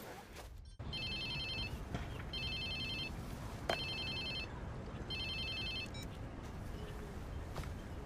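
Phone ringing in the video game Watch Dogs 2: four clear bursts of a trilling electronic ring, evenly spaced over a steady background hum, with no speech.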